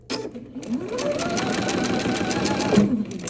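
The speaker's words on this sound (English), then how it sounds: "now I'm going to sew this together" Sewing machine stitching quilt block triangles together for a scrap Christmas quilt, a steady close whirring run lasting about three seconds with the motor speed rising slightly.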